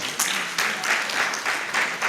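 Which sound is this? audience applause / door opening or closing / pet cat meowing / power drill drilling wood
audience applause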